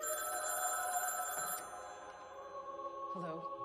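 A telephone ringing in a 2018 horror film scene set in an open house, a steady electronic ring that cuts off partway, followed by quieter movie sounds and low voices.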